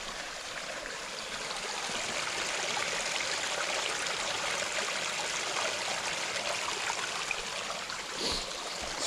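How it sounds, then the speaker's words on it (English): A small stream beside a circular hiking trail toward the Old George Dam flows steadily, giving a constant near rush and trickle of water with no voices. "Between now and the dam, this is going to be the only stream"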